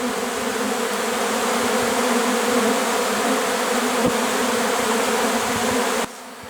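Honey bees swarm into empty hive boxes, a loud dense droning buzz of many insects close by, steady for several seconds before abruptly dropping lower near the end.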